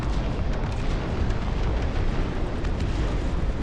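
Artillery explosions rumble continuously in the Dustfront RTS game, a dense, loud barrage of overlapping booms and blasts with no pauses, heard alone without talk.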